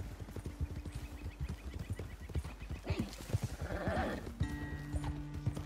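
Horse hooves clip-clop in a quick rhythmic gait in the Red Dead Redemption 2 video game, close and steady, with a brief whinny and snorting midway and tonal music underneath.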